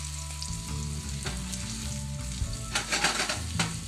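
Sweet potato pieces fry in coconut oil in a pan just after being flipped, making a steady close sizzle with brief crackling swells and a light scrape or two, and no one speaking.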